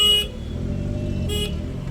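Stuck in a traffic jam in Tharad, two short car horn honks blare about a second apart over the low idling hum of the surrounding vehicles.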